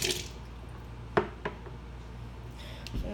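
Water fills empty hermit crab shells in a bucket, with a few soft splashes and drips close by against a faint background hum.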